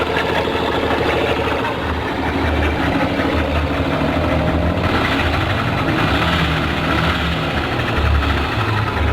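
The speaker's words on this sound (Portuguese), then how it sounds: "Batendo um pouquinho de válvula, agora chegou desse jeito" Yamaha Factor motorcycle engine idling steadily up close with a faint rapid valve tapping running through the rumble, continuous and loud for the whole stretch with no talking.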